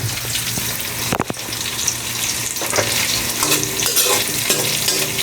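Pancit noodles fry in a pan while being stirred: a loud, steady sizzle with scraping and clattering from the utensil and a sharp knock near the start.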